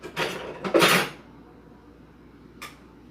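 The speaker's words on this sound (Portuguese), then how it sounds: "E agora vou começar a mexer bem aqui na preparação" Metal clatter of a spoon or utensil against a rice pot on a stove, a couple of quick scraping clanks up front and one brief knock later, close by and alone.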